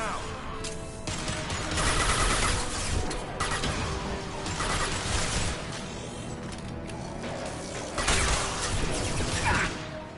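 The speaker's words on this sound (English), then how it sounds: "Firing concussive shot!" Concussive shot and gunfire in the Mass Effect 2 video game, heard as dense layered combat noise with repeated bursts and whooshing impacts over a busy mechanical background, loud throughout with stronger surges.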